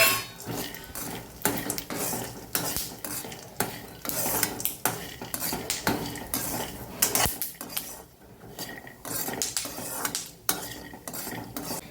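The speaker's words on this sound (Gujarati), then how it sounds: "સાથે દાળિયાને પણ ફ્રાય કરી લેવાના છે" Roasted chickpeas stirred in a pan of ghee, with busy clinking and scraping of a utensil against metal throughout and a soft sizzle underneath, close and continuous.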